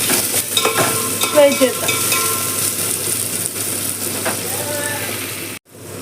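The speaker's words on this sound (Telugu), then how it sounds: "ఈ ఉల్లిపాయ బాగా వేగాలి" Onion frying in a pan for tamarind rice, a steady close sizzle with scraping stir strokes, a brief spoken phrase partway, and the sound cutting out abruptly near the end.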